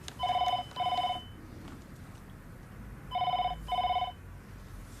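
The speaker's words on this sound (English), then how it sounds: "Phone ringing." A landline telephone rings in two double bursts, each pair of trilling electronic rings separated by a pause, fairly loud against a quiet room background.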